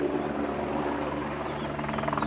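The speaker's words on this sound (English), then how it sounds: "and there's a helicopter" A helicopter flies near a fire, its rotor a steady droning hum with throbbing low tones, moderately distant and continuous with no talk.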